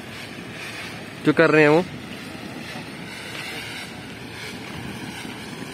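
Water sprayed onto a tunnel wall at a rail tunnel construction site on the Rishikesh–Byasi Char Dham rail line gives a steady, broad hiss throughout, with a voice briefly speaking near the start.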